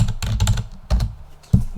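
Keys clack on a computer keyboard in a few quick bursts with short pauses, close and clear with no voices.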